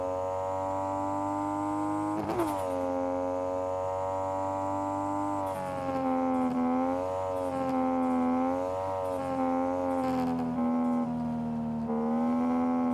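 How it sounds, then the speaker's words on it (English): A car engine drives along in the video game Drive Beyond Horizons, holding a steady, tonal drone. The pitch rises and dips in several swells, with a brief sharp knock early on. No one talks. "I do think this car probably sounds the best of all of them in the game that I've heard so far"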